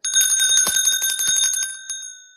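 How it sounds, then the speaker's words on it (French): A small hand bell is rung rapidly for about two seconds, giving a bright, sustained chiming with a shimmering ring. The strikes are close together and loud, then a single later strike trails off as it decays. "À quoi sert la cloche? À faire ça."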